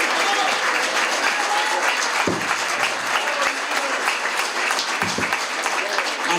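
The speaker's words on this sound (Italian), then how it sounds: "direi di fare subito un applauso a Luigino." Audience applauds Luigino at a community festival in Avian, a sustained, dense wash of clapping with a couple of low thumps and faint voices mixed underneath.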